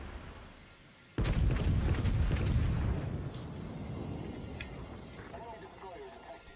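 A German Tier VIII battleship, the Tirpitz, fires its main guns at a destroyer in World of Warships, a sudden loud roaring salvo that rumbles for about two seconds before fading into a lower ambient drone.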